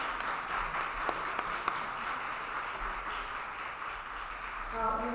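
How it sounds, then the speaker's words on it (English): Applause from guests at a disability mentoring day kickoff reception, a steady, moderately distant wash of clapping with a few sharper nearby claps, and a voice briefly at the end. "Give them a big round of applause"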